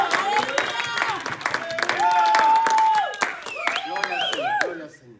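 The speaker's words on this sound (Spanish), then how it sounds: "Les deseamos las más ricas bendiciones con este aplauso de la congregación." A church congregation applauds and cheers during a Spanish-language service, clapping mixed with shouting voices and whoops, fading toward the end.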